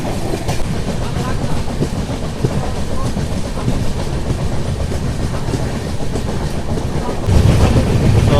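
Secunderabad to Shalimar weekly AC express train running with steady rolling rumble and clickety-clack of wheels on rails, continuous and loud throughout, growing heavier near the end.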